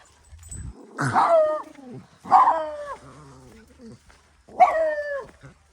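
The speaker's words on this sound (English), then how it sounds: "those are just coyotes howling at the fireworks." Three loud, separate coyote howls or yelps with wavering tone, spaced a second or so apart, close and otherwise quiet, as the coyotes howl at fireworks.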